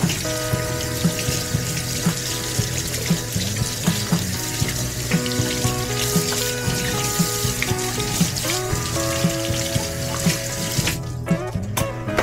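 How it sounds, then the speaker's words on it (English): Tap water runs in a steady, close stream into a kitchen sink while raw pork is washed, with faint clicks and knocks scattered through the rush and a brief dip near the end. "First, she washed the meat."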